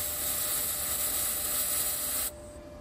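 An ARCCAPTAIN MIG 200 welder laying a MIG weld, a steady close hiss and crackle that holds evenly, then cuts off sharply, leaving a faint background hum.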